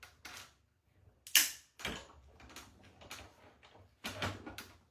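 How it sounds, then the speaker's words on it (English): A die cut machine cutting card, a few close mechanical clunks and clicks spaced irregularly, with quiet pauses between them. "It has the die cut machine."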